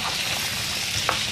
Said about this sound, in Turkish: Şimdi birkaç dakika güzelce kavuruyorum sebzelerimi